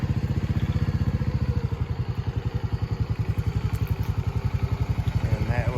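A 2018 Montesa 260 Cota trials motorcycle with upgraded dimple clutch plates runs close by, its engine thumping in a steady, even low-pitched putter that holds throughout.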